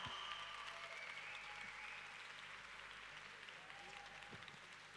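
A crowd at a ballroom dance competition applauds with a soft, diffuse wash of clapping that stays faint and distant, a low hum running beneath it throughout.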